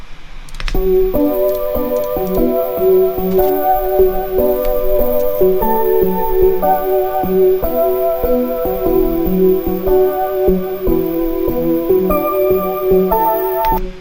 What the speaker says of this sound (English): I just pitched up the melody 1 octave for the serum patch and layered them on top of each other